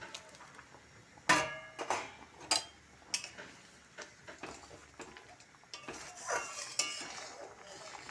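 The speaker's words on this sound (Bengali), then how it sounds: "এখন কুমড়ো ভাজাগুলি দিয়ে দিচ্ছি।" Fried pumpkin pieces go into a pan and are stirred for a spinach dish, giving close, irregular metallic clinks and scraping knocks with short louder bursts and quiet gaps between.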